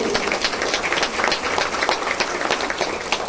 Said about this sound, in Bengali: সকলে করতালি দিয়ে ওদের উৎসাহিত করুন